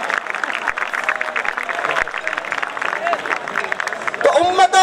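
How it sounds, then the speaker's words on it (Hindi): Audience applause at a college farewell party, moderately loud clapping mixed with crowd babble, with a voice speaking near the end. "इस क्रेडिट के लिए भी जोरदार तालियां बनती है।"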